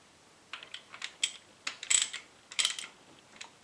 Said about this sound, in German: Dann ziehen wir alle Schrauben mal so leidlich mit der Hand etwas fest.